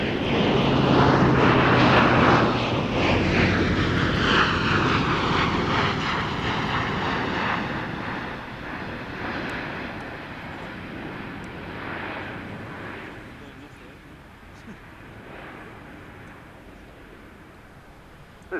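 An Airbus military aircraft flies past at the Royal International Air Tattoo, its engines roaring loudly at first, then fading slowly as it moves away, with no other sounds.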